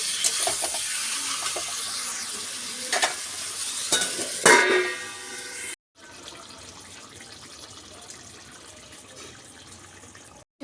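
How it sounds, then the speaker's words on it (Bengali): Chicken pieces being stirred into masala in a pot for a chicken curry: scraping and sizzling, louder and busier in the first half with a few sharp knocks, then a steadier low hiss after a brief cut. "মাংসটা দিয়ে আমি ভালো করে একটু নাড়িয়ে নিয়ে আধা ঘন্টা মতন আমি রান্না হতে দেবো।"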